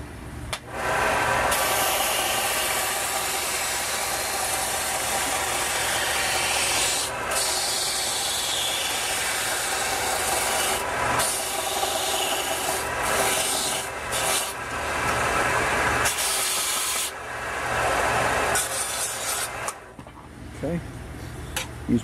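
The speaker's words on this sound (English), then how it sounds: "So let me sand the end off just a smidgen." The end of a wooden Native American flute is sanded by hand in a steady, close rasping rub that continues almost unbroken, with brief pauses and faint background talk.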